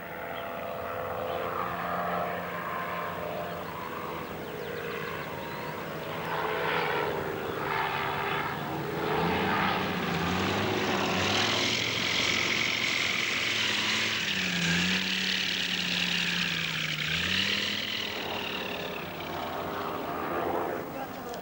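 Propeller aircraft on a pinpoint approach to land on a field among hills, a sustained droning engine that swells and shifts in pitch over twenty seconds, under steady narration.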